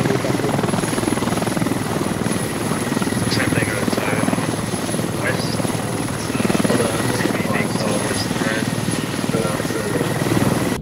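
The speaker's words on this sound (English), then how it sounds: "We've got Squad 1 helo inbound now. This is our ride. We'll let him land and move back in." A military helicopter in the video game Squad comes in to land, its thumping rotor wash and engine whine loud and continuous throughout, with voices speaking faintly underneath.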